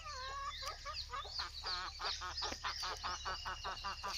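Roosters cluck and call in quick, repeated bursts, several birds overlapping at close range over a steady low hum, in a village in Manyam district.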